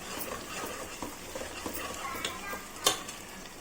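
Ginger garlic paste frying with onions in a pan gives a steady, low sizzle with soft stirring scrapes and one sharper utensil clink near the end.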